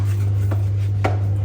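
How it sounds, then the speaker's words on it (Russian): A steady low mechanical hum of a running dishwasher fills the background, with two soft knocks on top. "У меня моется посудомоечная, сама машина моется, поэтому прошу прощения за шум."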